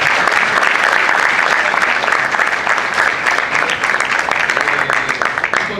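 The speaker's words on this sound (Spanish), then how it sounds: "Otro fuerte aplauso igual a los expositores," At a national-industry colloquium, the audience gives the panelists a loud, sustained round of applause. Dense clapping fills the room and tapers off only slightly toward the end.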